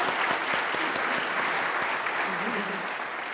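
An audience at a conference panel on resilient futures applauds a stage of women leaders, a dense, steady clapping that fills the whole stretch at an even level and eases slightly toward the end.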